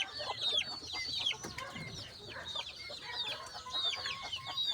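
Hens and other farm chickens cluck repeatedly nearby, with short chirpy calls overlapping in a busy, steady chorus and no talk.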